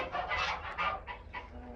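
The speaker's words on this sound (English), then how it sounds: "We got some broody hens." Broody hens in a backyard coop give a few soft, close clucks and murmurs, spread unevenly over a couple of seconds with no talking.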